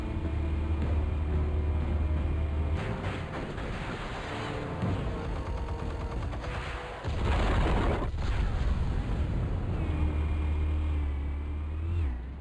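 Explosives detonated in the Batman Telltale video game, a loud, sustained rumbling blast with crackling bursts and a second heavy boom partway through, alone without talk.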